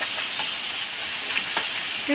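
Onions fry with salt in a pan on a village kitchen stove, making a soft, steady sizzle and hiss close by with a few faint clicks.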